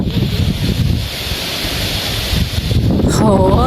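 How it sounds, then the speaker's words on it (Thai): Strong wind blows outdoors, producing a loud, continuous roaring buffet with low rumbling gusts that rise and fall. A few faint high chirps appear near the end. "ลมแรงอากาศดีจริงๆ เลยค่ะ"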